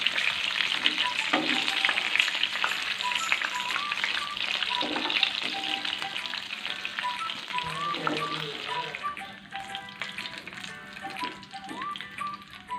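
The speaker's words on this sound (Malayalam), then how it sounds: "ഇനി ഇതുപോലെ ബാക്കിയുള്ളതും കൂടെ ഫ്രൈ ചെയ്യും." Pieces of homemade KFC-style chicken deep frying in hot oil, giving a steady, loud, continuous sizzle with occasional crackles and light taps throughout.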